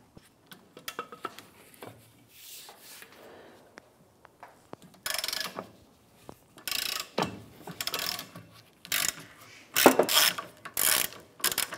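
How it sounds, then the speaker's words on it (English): An 18mm socket on a ratchet loosening the rear shock absorber nut on a 2008-2013 Nissan Rogue, with bursts of close metallic ratchet clicking and clanks separated by pauses, no voices. "Using an 18mm socket, go ahead and loosen the nut on the shock."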